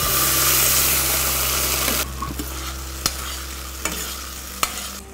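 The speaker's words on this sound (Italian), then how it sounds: "sposto l'olio da una parte perché ora è veramente bollente, e vado ad aggiungere i fagioli ben sgocciolati" Drained beans tipped into very hot olive oil with garlic in a pan give a loud, hissing sizzle that thins after a couple of seconds, followed by quieter frying and a few scraping clinks of stirring.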